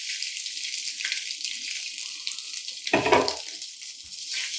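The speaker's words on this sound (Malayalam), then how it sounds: "അതൊന്ന് ചൂടാകുമ്പോൾ നമ്മുടെ ഈ ചങ്ക്സ് അതിലിടുന്നുണ്ട്." Soya chunks frying in a teaspoon of hot oil give a steady sizzle, with a louder, fuller burst of crackling midway as they are stirred or added.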